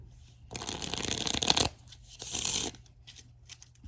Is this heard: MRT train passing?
no